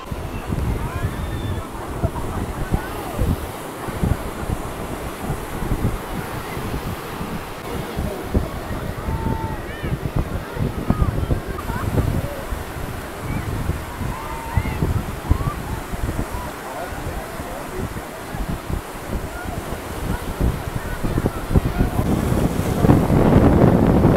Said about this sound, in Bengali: এইখানে জলের স্রোত খুবই চলছে